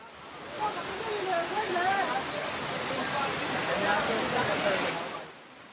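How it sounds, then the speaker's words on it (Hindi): Loud, steady roar of floodwater rushing down a road after heavy rain, broad and churning like a torrent, fading slightly at the end. "सड़कों पर उत्तराखंड जैसी नदियां बहने लगी, वो भी शोर करती हुई तेज धारा के साथ"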